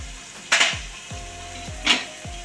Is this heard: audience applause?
no